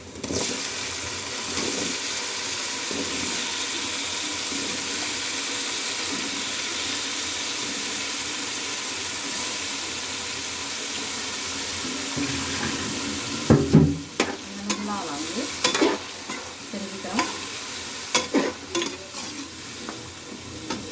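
Cut potatoes hit a pan with spices and fry with a loud, steady sizzle, then stirring and scraping bursts grow louder and choppier toward the end.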